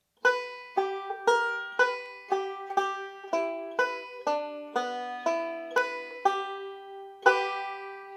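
A banjo picks the last two measures of the A part of "Cripple Creek" up the neck, about a dozen bright plucked notes in a steady rhythm, ending on a final ringing note.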